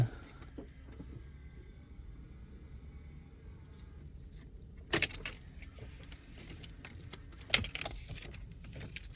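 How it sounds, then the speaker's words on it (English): Car keys jangle faintly near the seat during BEM key programming on a Ford Falcon, with low cabin hum and a couple of sharper metallic rattles partway through. "The keys are near my knees."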